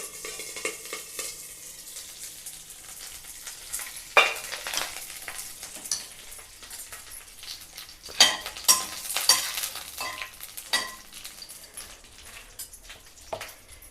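Curry leaves fry in a spoonful of hot oil, a soft sizzle broken by a few louder crackling bursts and scraping stirs of a utensil against the pan, with no speech.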